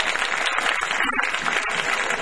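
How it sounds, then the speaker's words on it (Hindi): An audience at a fair poetry gathering applauds a poet with loud, dense, continuous clapping that fills the whole stretch with no voices over it. "मैं चाहता हूं एक बार आप लोगों को मेरे खाते में अपनी तालियों का प्यार अंकित कर दे।"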